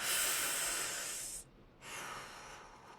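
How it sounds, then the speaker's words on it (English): A long breath is drawn in through the mouth, an airy hiss that breaks off briefly and then resumes more softly, close and alone. "Turn your body to the left and breathe in through the mouth."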